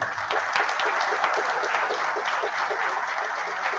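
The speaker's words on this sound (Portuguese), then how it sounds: "eu queria pedir a vocês uma salva de palmas para o Felipe Miguel" A seated audience at a results presentation gives a sustained, even round of applause, dense and steady throughout with no talking over it.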